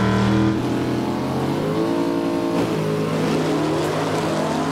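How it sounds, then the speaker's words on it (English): A Chrysler-powered gasser drag race car at Emerald Coast Dragway in Holt, Florida, its engine held at low RPM, a loud, close, deep throbbing rumble with rising and falling harmonic tones throughout. "That Chrysler must have the most mountainous amount of torque. If you'll listen, doesn't rev it very high, David."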